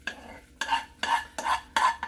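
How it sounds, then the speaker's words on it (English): Balsamic vinegar in a saucepan crackles and sizzles in short repeated bursts, as if being stirred, close and moderately loud with a rhythmic scraping pulse. "So I poured in some balsamic vinegar into the saucepan."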